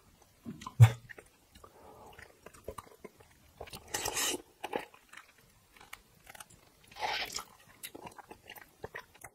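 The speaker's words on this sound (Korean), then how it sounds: "오늘은 양념게장, 간장게장, 파김치, 밥 적당히 이렇게 한번 먹어보겠습니다." Someone eats Korean marinated crab in spicy and soy sauce with green onion kimchi and rice, giving close, wet biting and crunchy chewing in separate bursts with quiet gaps and a few light dish clinks.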